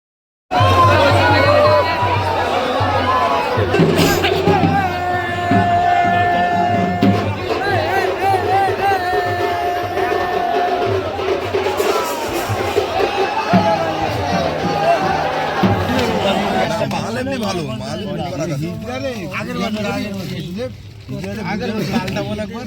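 A dense crowd of Matua pilgrims packs a train at Thakurnagar, loud continuous chatter and shouting voices blending into a heavy hubbub, with someone talking close over the din.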